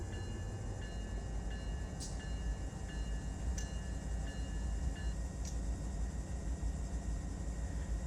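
A freight train in Run 8 Train Simulator departs Barstow Yard with a steady low rumble and regularly spaced metallic clicks from the wheels on the rail joints, continuous and fairly close, with no voices.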